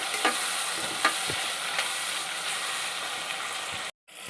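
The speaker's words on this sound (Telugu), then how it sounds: "ఇంకా రెండు పెద్ద టమాటాలు కోసి పెట్టుకుని ఉన్నాయండి అవి రెండు వేసేస్తున్నాను" Tomatoes go into a frying Rayalaseema-style mutton head curry: a steady close sizzle of hot oil with scattered spoon clinks and scraping stirs, alone with no voices, cutting off briefly near the end.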